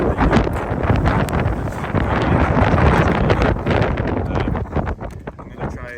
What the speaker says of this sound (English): It's very windy, very wet